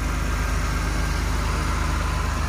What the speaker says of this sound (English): All right, engine running.